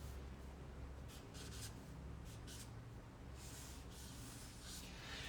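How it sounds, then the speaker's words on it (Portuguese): Chord names being written by hand, a faint scratchy pen-on-paper sound in short strokes and bursts across a few seconds, heard alone with no talking. "Então eu vou só escrever aqui em cima"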